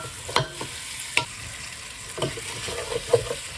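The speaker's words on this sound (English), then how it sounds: "And we're just stirring it, make sure it doesn't stick, and so it gets nice and evenly browned." Lamb pieces fry in a pan while being stirred for Awaze tibs, steady close sizzle broken by sharp scraping knocks of the utensil at uneven intervals.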